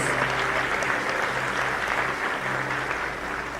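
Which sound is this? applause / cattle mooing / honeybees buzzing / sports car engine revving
applause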